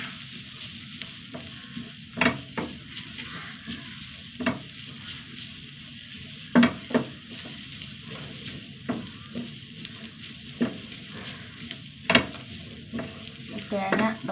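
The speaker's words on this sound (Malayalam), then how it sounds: "എരിവിന് ആവശ്യമായ വറ്റൽമുളക് ഒന്ന് വറുത്തെടുക്കുക" Dried red chillies fry and crackle in a hot pan, a soft steady sizzle broken by scattered pops and the occasional scrape of stirring.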